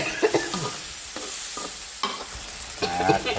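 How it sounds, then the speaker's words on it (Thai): Minced pork frying in a pan with a splash of plain water for a basil stir-fry: a loud, steady sizzle with scraping stirs and spatula clinks close by. "เติมน้ำเปล่าลงไปนิดหน่อยนะ"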